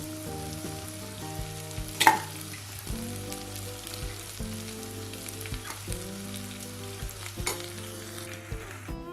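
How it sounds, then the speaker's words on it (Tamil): Cooked rice is stirred into frying okra with a loud, steady sizzle, while a spoon clinks and scrapes against the pan at uneven intervals, with one sharp knock early on and no speech. "சாதம் சேர்த்து நல்லா மிக்ஸ் பண்ணிட்டேன்."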